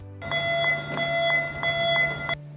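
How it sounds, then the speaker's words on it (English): A steady electronic muster alarm tone pulsing in rapid regular beats for about two seconds, loud and close, then stopping. "When the muster alarm sounds, you must stay inside the building and assemble for roll call"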